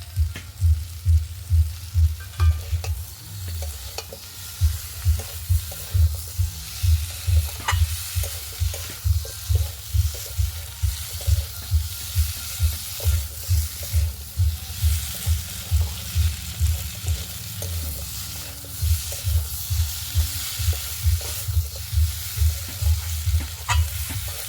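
Washed mutton fat frying in a pan, a continuous close sizzle with regular, rhythmic stirring strokes throughout, no voices.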